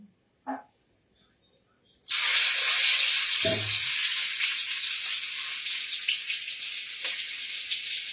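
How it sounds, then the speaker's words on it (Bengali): Chilies hit a small wok of hot oil and burst into a loud, bright sizzle after a brief quiet start with a couple of small knocks; the frying hiss continues steadily to the end without talk. "ওই কড়াই লঙ্কা ভাজবো নি।"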